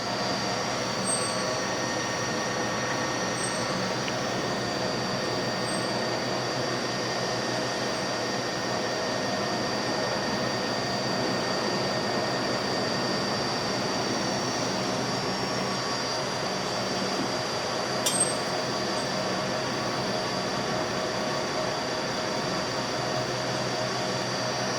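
A RAM SCD300 dicing machine cuts beef strips into 3/4 inch dice with a continuous, steady mechanical hum and drone, with faint intermittent clicks and no speech.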